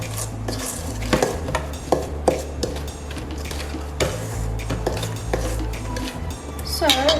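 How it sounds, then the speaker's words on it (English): Metal spoon stirring and scraping chocolate chip cookie dough of brown sugar and butter in a bowl, a steady run of close, loud clinks and scrapes with no talk. "I think I might just mix it with a spoon because that took way too long"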